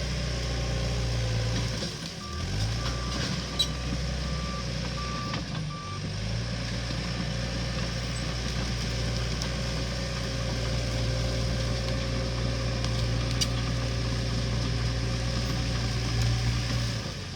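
A bulldozer pushes material at a forest fire-prevention site, its steady engine rumble running throughout with a repeated reversing beep near the start, loud and close with no talk.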